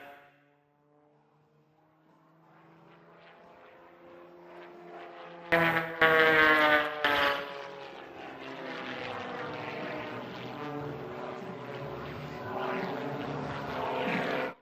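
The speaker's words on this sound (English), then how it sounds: "rolling the aircraft, snapping the aircraft, getting maximum altitude upside down, and then arcing around." An aerobatic airplane flies maneuvers at an air show, its propeller engine droning with shifting pitch as it passes, swelling to a loud roar midway and then holding a strong, wavering buzz.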